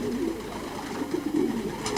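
Racing pigeons coo in low, soft repeated calls at a loft in Portugal, steady and fairly close, with a few brighter chirps near the end and no talking.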